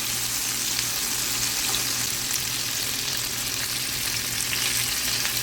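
Argentine shrimp stir-frying in a pan with sweet chili sauce produce a loud, continuous, even sizzle with crackling spatter throughout and no voices.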